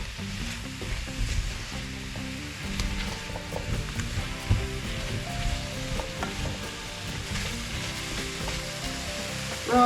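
Sliced apples and spices for an apple crumble pie are stirred around a pan, with a steady sizzle and soft scraping and tumbling of the fruit throughout, close and continuous, with no talking.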